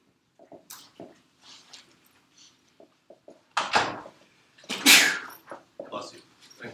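A single sharp sneeze cuts through a lecture on solving equations, with someone talking before and after it.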